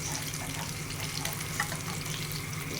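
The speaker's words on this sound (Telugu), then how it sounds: "చేపల ఫ్రై" Kingfish pieces fry in hot oil in a pan, giving a steady, dense sizzle and crackle up close with no talking.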